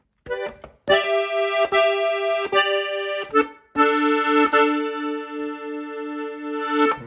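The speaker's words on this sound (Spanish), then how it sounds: "Como les dije, es en acordeón de sol" Accordion tuned in G playing the opening phrase of a cumbia-norteña song, with clear sustained reedy chords and short bursts of notes, close and alone without talk.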